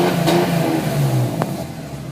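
A 2003 BMW M3 revs hard against its two-step launch control, a loud, close, burbling engine note that holds and then drops, with a sharp pop partway through.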